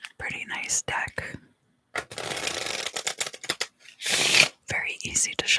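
A plain tarot deck is shuffled in close, crisp riffles and flutters, with dry papery bursts between soft whispered speech in a quiet room.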